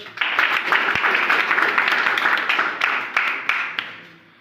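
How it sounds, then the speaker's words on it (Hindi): A class claps together in a short burst of applause, close and lively, tapering off near the end. "फ्रेंड्स ताली बजाओ।"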